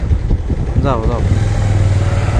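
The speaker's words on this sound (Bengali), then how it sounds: "মোটর সাইকেল যোগে যাচ্ছি" A motorcycle hums steadily at low pitch while riding along a village road, with wind noise throughout and a voice speaking briefly over it.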